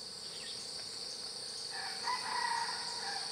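Wild junglefowl in a Khao Sok jungle in Thailand, with a steady high insect drone throughout and a brief bird call rising midway, fairly distant beneath the constant buzzing.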